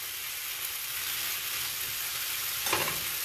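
Butter melts and sizzles in a frying pan on the stove, a steady close hiss that holds throughout with no talking, briefly swelling near the end.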